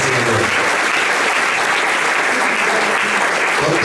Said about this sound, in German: Bravo, einen Applaus.